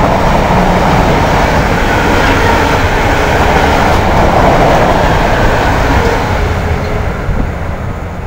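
A Class 90 locomotive-hauled train passes northbound through Nuneaton station, a loud, steady rolling roar with rail noise that fills the whole span and holds constant, with no talk over it.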